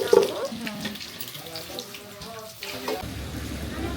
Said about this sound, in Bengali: এখানে এই যে আমাদের ডিম ভাজা হচ্ছে